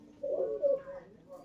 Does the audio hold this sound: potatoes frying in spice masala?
no